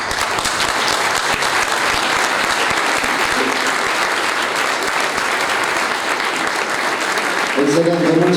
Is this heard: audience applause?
yes